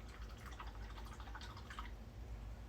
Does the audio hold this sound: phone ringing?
no